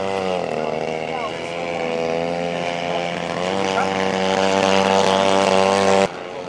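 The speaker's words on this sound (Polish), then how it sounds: "Piękny śmigłowiec." A steady high-pitched engine whine with a buzzing harmonic drone from a model Eurocopter helicopter hovering nearby at a model aircraft picnic, with faint talk in the background.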